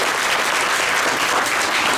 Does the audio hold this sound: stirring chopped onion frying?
no